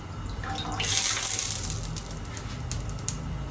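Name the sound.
dipping roti in water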